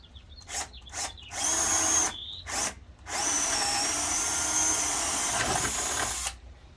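A power drill bores a hole beside an INCA 570 jointer/planer in a workshop, starting with a few short bursts, then two longer whining runs of steady high motor pitch, close and loud, with no talking.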